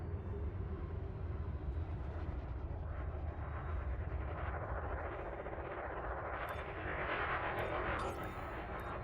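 A spaceship in Elite Dangerous Odyssey lands and docks with its landing gear deployed, producing a dense, continuous rumbling roar of thrusters that holds steady and swells slightly louder toward the end.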